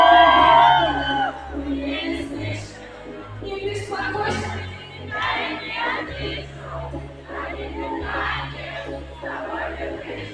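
An audience at a live stage performance shouts and cheers loudly in waves of voices, with a low musical hum running underneath throughout.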